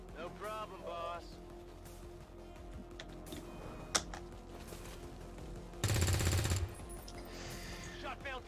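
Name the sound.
gunshots in XCOM 2 video game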